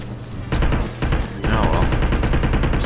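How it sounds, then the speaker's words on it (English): Rapid automatic gunfire in Hitman: Blood Money comes in loud, dense bursts. Two short volleys are broken by brief gaps, then a longer sustained stream of shots follows, up close and with no talking. "More gunfire."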